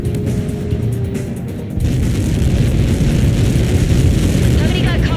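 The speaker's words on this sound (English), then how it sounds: "Somebody got caught in that explosion." A missile impact explosion in the video game Ace Combat 7, Mission 19: a loud, low boom swells at about two seconds into a sustained, heavy rumble that carries on to the end.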